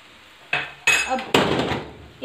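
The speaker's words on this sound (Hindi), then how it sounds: "अब इनको अच्छी तरह से हम मिक्स कर लेंगे। ये तेज़ आंच ही है नीचे और चावलों को हम यूँ मिक्स" Egg fried rice with soy and chili sauce being tossed in a pan over high heat, a few sharp metallic scrapes and clanks of a spatula against the pan over a low hiss, close and brief.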